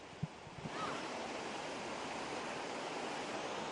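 Floodwater rushing through flooded Delhi streets, a steady broad roaring wash that swells in after a couple of faint thumps and then holds constant and loud.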